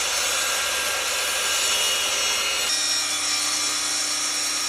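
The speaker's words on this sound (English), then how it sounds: "I put a blade for cutting aluminium in my circular saw and took the plunge." A circular saw fitted with an aluminium-cutting blade cuts through an aluminium display stand, giving a loud continuous grinding whine whose tone drops partway through the cut.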